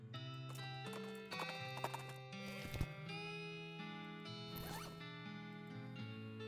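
A horse's hooves clip-clop steadily as a rider leaves on horseback in the western role-playing game West of Loathing, with game music playing throughout.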